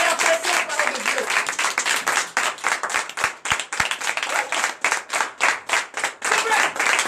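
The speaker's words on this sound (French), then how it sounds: "Donnez l'acclamation" A congregation at a French-language church service breaks into sustained applause, a dense, loud wash of many hands clapping with rhythmic surges, and voices audible under the clapping.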